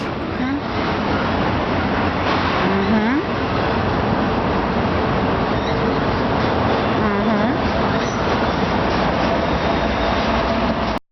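A long container train with a mid-train ET44AH DPU locomotive rolls steadily past at close range, a loud continuous rumble of wheels and cars filling the whole stretch, with a few squealing tones and background voices.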